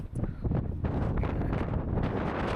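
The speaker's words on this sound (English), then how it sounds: "it's definitely getting windy" Strong wind buffets the microphone on the volcanic coast of Iceland, a loud, continuous rumbling roar with gusty surges and no pauses.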